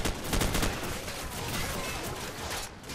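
Dense, continuous volleys of gunfire from Call of Duty: Modern Warfare crackle throughout, rapid overlapping shots forming a loud, sustained barrage with no talking.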